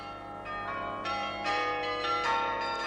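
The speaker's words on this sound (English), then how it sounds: "You set the cams in like pegs to trip certain levers and ring certain bells." Mechanically tripped bells of differing pitch, set off by cams acting like pegs on levers, strike one after another in an uneven sequence of about five bright, ringing notes that overlap and sustain, with no talking.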